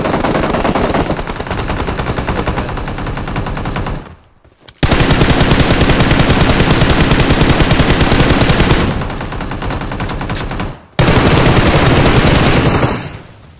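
Automatic gunfire sprays in PUBG Mobile, loud and close, in long sustained bursts broken by two brief pauses, with no talking.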